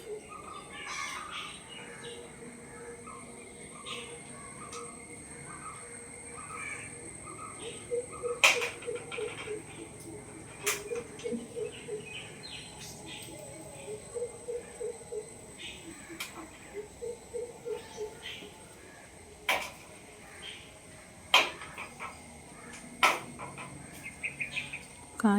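Wild birds feeding on jamun berries in a tree give scattered chirps and short calls, mostly faint and distant, with a few louder sharp notes over a quiet outdoor background.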